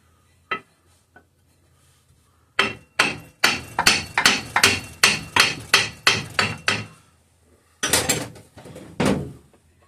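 Light hammer taps strike a thick cast aluminum section of a Kohler K301 engine where it surrounds the crankshaft bearing. One early tap, then a quick run of a dozen sharp, close knocks, a pause, and a final handful.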